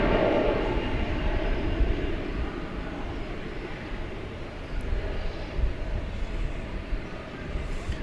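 A Finnair Airbus A350-900 airliner on the runway, its steady broadband engine roar continuous and fairly loud throughout, with slight swells in intensity and no talk.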